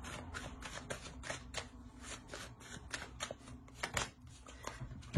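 Tarot cards are handled and shuffled close by, a quick run of soft papery flicks and slaps at an uneven rhythm, faint and with no talking.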